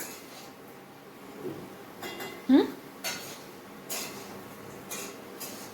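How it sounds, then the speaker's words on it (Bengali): A kadai holding fried paneer is moved off the stove with a few metallic clanks and scrapes, one sharp knock standing out among softer clatters, close and intermittent over a quiet background. "কড়াইটা এখান থেকে একটু সরাই"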